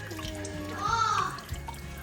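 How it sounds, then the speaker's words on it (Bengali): Fresh fish from a New Jersey river rinsed one at a time under running water in a kitchen sink, a steady close splash that swells briefly in the middle before settling back to a softer trickle. "ভাবে মাছ ওয়াশ করতেছে কিভাবে দেখেন"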